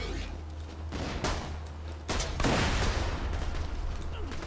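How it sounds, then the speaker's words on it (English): Gunfire in the Borderlands 2 video game: a run of broadband bursts builds to a denser, louder volley midway, over steady game ambience with a low hum. "Where was I being shot from?"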